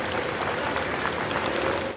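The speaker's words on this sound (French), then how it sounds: "sous les applaudissements des Français" A crowd applauds steadily as the funeral convoy of former French president Jacques Chirac passes, the dense clapping loud and continuous throughout.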